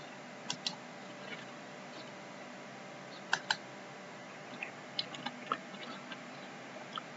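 A computer keyboard being typed on while entering a spreadsheet function name, with a few sparse, crisp keystroke clicks spread over several seconds against a faint steady hum.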